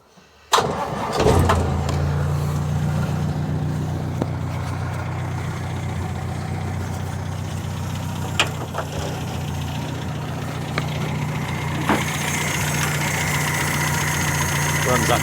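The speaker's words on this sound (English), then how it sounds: "It's a 2-litre petrol, which, after a little bit of tinkering today with the fuel pump," A 1954 Land Rover Series 1 with a 2-litre petrol engine, raised on a ramp, starts up and settles into a steady, close, even idle that runs on unbroken, with a few faint clicks and knocks over the running engine.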